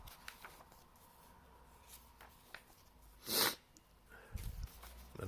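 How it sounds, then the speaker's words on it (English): Quiet indoor room tone is broken by a few soft nasal sniffs and one sharp, louder sniffle-like burst near the middle, followed by faint rustling and handling noises. "excuse me for sniffling and snuffling"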